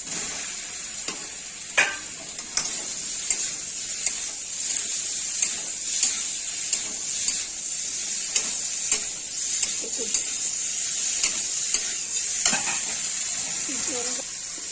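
Chopped ridge gourd sizzles steadily in a hot pan with spices for a light potato and rohu fish curry, a continuous frying hiss broken by occasional stirring scrapes, with no talking.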